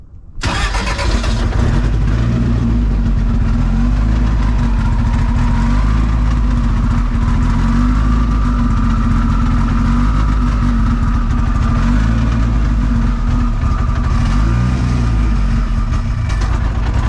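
A drag race car with straight-cut gears idles loudly and close by after starting, its rough, steady engine rumble carrying a whining gear note and holding constant for the whole stretch.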